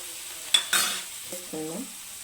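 Green chillies and tomatoes cooking in a pan with a soft sizzle, broken by two quick scraping stirs early on and a brief squeaky scrape toward the end, with no one talking.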